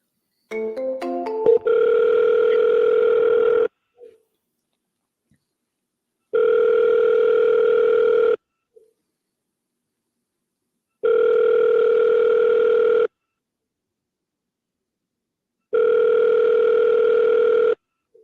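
Telephone call ringing out: a few quick dialing tones, then four long steady ring tones spaced by equal silences, clear and alone.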